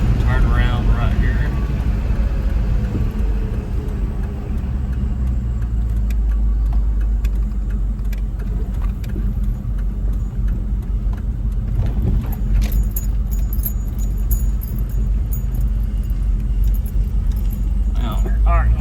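A V8-swapped Ford Ranger engine holds a steady low rumble at a little over quarter throttle while driving, with a constant deep drone and rattling, jingling sounds in the cab. Someone talks over it at times.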